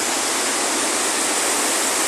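Water released from a reservoir dam rushes toward the Orós reservoir in Brazil as a loud, steady, broadband roar, constant and close with no voices over it.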